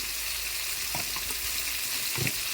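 Eggs frying in oil with chilli powder for a village-style egg curry, a dense steady sizzle with a few soft stirring knocks, close and continuous with no speech.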